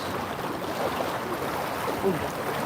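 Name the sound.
strong river current flowing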